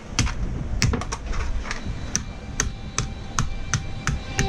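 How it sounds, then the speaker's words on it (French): Cardboard boxes being crushed by hand aboard a boat to cut down trash volume, giving a series of sharp, irregular crackling taps and thumps, close and fairly loud, with no talking. "est en train de compresser les boîtes pour réduire notre volume de poubelle"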